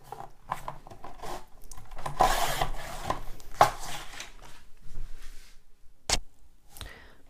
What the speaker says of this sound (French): Je vais découper une bande de 12 cm.